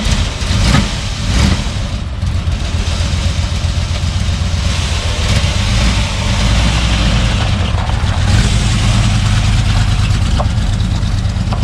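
A 1961 Pontiac Laurentian with a 4-speed sits idling with a loud, constant engine rumble close by. The steady drone carries no obvious start-up crank.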